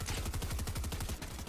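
Rapid automatic gunfire in the video game Fortnite, a dense steady burst of close, loud shots rattling without pause for about a second and a half.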